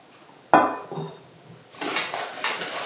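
A metal camping frying pan clatters and scrapes against other camping cookware, with a sharp clank followed by lighter rattling and clinking, close by.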